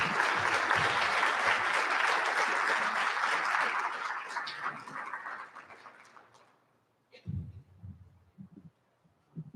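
A crowd gives full applause for a County Executive at an evening community gathering. The sustained clapping fades out over about six seconds, leaving near-silence broken by a few soft thumps.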